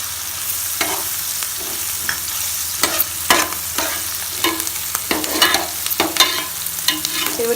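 Sliced onions with turmeric and green chilies fry in a pan for an Andhra-style fish curry, with repeated scraping and stirring knocks over a low sizzle, close and irregular, with no voices.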